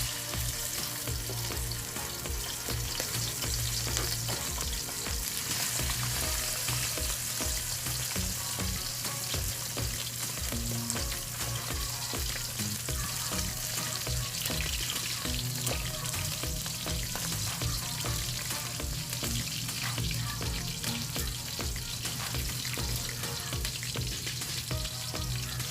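Milkfish (bangus) frying in oil in a pan, a steady close crackling sizzle that holds even and loud throughout with no voices.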